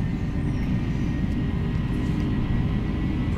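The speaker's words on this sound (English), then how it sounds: "We've been cleared for takeoff." An airliner's engines roar steadily on the takeoff roll in a flight simulator, a loud, even low rumble with a thin whine above it, heard alone without speech.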